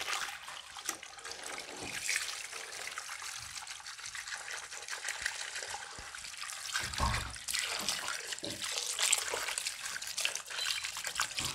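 Water pours from a tap into a container to wash freshly harvested taro, a steady hissing splash with trickling variations, close and fairly loud throughout without speech.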